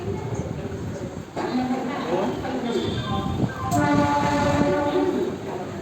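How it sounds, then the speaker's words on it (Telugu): Train rumble and clatter fill a busy station, with a horn sounding midway and people talking in the background. "మేము రైల్వే స్టేషన్కి వెళ్ళి అక్కడ వెయిటింగ్ హాల్లో వెయిట్ చేస్తున్నాము"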